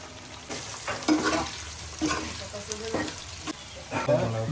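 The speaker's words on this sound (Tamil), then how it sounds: "அவ்வளோ இஞ்சி வந்துட்டு நல்லா ஃப்ரை ஆகிடுச்சு" Ginger and garlic fry in hot oil for a fish pickle, a steady close sizzle broken by a few soft stirring scrapes, with no talk.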